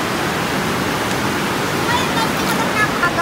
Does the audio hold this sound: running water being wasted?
yes